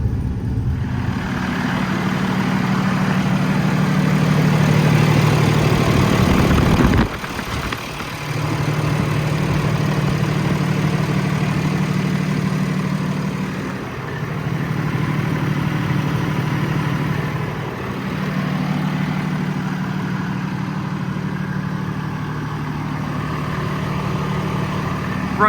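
A 2016 Freightliner M2 service truck with a Cummins engine idles loudly and steadily up close. A short knock and a dip come near seven seconds, then the low drone carries on with slight surges.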